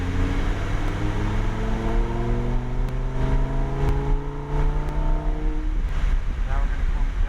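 A supercar engine revving up and accelerating onto the banking of a race track, a loud steady drone climbing in pitch through the gears, close and continuous with wind rush inside the cabin.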